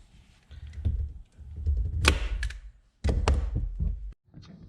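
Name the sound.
staple gun stapling car interior trim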